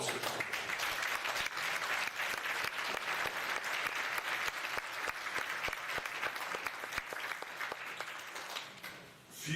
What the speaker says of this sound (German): Ich darf Sie um einen Applaus bitten.